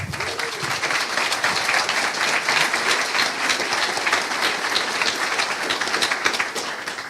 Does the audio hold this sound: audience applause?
yes